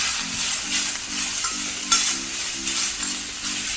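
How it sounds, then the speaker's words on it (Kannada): Mint and poppy seeds fry on a low flame for country chicken curry. A loud, close sizzle runs throughout, with rhythmic scraping strokes of a spatula. "ಆಮೇಲೆ ಗಸಗಸೆ ಅಷ್ಟು ಹಾಕಿ ಲೋ ಫ್ಲೇಮಲ್ಲಿ ನೀಟಾಗಿ ಫ್ರೈ ಮಾಡ್ಕೊತೀನಿ."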